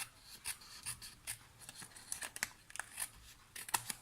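Small craft snips trimming a handmade bridal engagement card, a series of crisp close snips in an uneven rhythm with light paper rustle between cuts.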